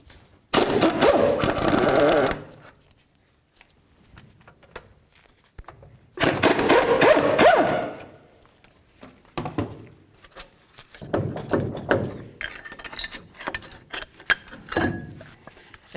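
Loud bursts of a power impact tool and ratcheting as two caliper bolts come off a 2007-or-later Toyota Tundra during a front CV axle replacement, with two long runs, quieter clanks and shorter rattling bursts, close by, no talking.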